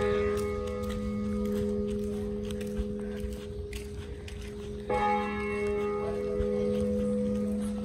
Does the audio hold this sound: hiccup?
no